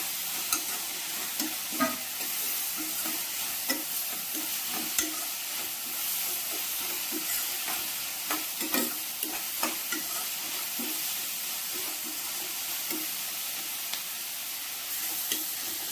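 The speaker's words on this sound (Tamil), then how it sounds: "வெங்காயம் நல்லா ஃப்ரை ஆகி வரணும்" Onions with curry leaves fry in a pan over a full flame for ghee rice: a steady, close sizzle runs throughout, broken by regular spatula scrapes and stirring taps, with no talking.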